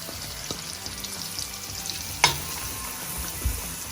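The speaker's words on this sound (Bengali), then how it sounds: "আর একটু স্টির করে নেব।" Ginger, garlic and onion frying in melted butter in a pan, hissing softly and steadily as a utensil stirs them, with a sharp metallic clink near the middle and a dull knock near the end; no talking.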